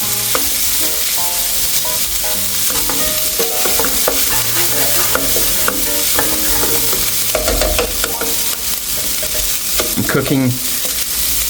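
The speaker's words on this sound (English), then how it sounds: "We're going to add in our corn kernels in here. Give it a good stir. Brown that up just a tad bit." Corn kernels and caramelized onions fry loudly in a pot on medium heat, a constant close sizzle broken by repeated scraping and clacking of a spoon stirring, with no talk.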